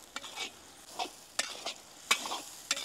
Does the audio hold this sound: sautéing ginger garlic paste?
yes